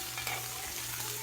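Asparagus stirred and tossed in a hot pan, a continuous close sizzle with soft scraping and light knocks of a utensil, no voices.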